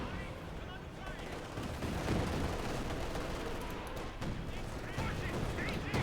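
Gunfire and cannon shots from a Company of Heroes 2 battle, a Wehrmacht versus Soviet match with fire striking a T-34's front armor, form a dense, steady barrage of crackling shots and booms. Talk runs faintly underneath.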